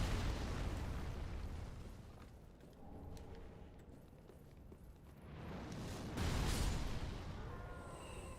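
Booming artillery explosions in the video game Dark Souls 3, a rumbling stream of blasts swelling loud around the start and again near the end, with no voices.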